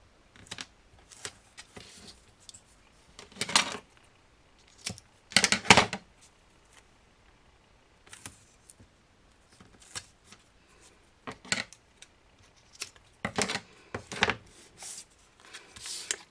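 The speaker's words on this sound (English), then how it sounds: "go ahead and apply our double stick tape to the back of our series and title label" Double-sided tape applied to the backs of paper series and title labels for a children's Bible craft kit: scattered close crinkly bursts of peeling and pressing, some clustered and louder, separated by quiet gaps, with no talking.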